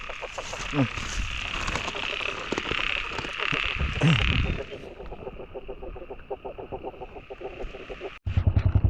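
Frogs croak in a steady, rapid pulsing chorus close by during rain, partly under someone talking at the start, then continuing alone with a loud burst at the very end.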